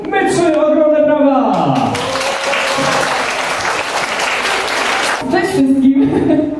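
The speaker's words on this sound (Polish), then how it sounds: "Ogromne brawa!" Loud crowd applause at an outdoor event in Zakopane, greeting a girl band as they take the stage, with cheering voices and speech over the clapping throughout.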